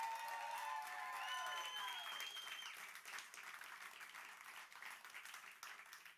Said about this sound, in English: can we just give a quick round of applause